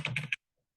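A brief burst of three quick, close keystrokes on a computer keyboard enters a website address, followed by sudden silence.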